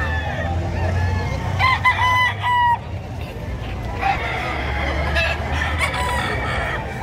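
A one-year-old bull stag rooster at a gamefowl sale in Padre Garcia, Batangas crows close by in a couple of drawn-out calls, with clucks, other fowl and distant chatter in the background.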